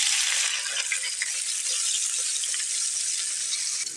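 Chopped onions frying in oil in a pan while potato and egg curry is cooked, a steady, loud hiss and crackle of sizzling that runs throughout without a break, with no talking.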